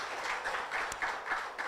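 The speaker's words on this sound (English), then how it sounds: "Let's give him a big, warm round of applause." Audience at an awards ceremony in Dar es Salaam gives a steady round of applause, a dense wash of clapping of even loudness throughout with no voices over it.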